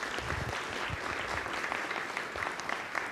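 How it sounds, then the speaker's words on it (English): Applause from the audience at a city council candidate forum held in a school district facility in Bastrop, steady and moderately distant, with a few louder claps standing out over about three seconds. "so please give her a round of applause"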